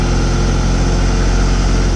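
A 2000 New Holland skip loader tractor idles close by, a loud, steady low diesel rumble with an even throb throughout.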